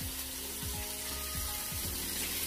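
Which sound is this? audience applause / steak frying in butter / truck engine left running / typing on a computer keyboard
steak frying in butter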